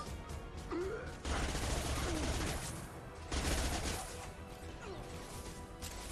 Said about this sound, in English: This machine gun is sick.